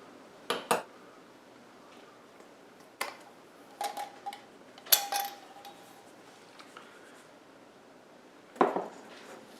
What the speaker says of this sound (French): Je vais mélanger la poudre à pâte ainsi que le soda.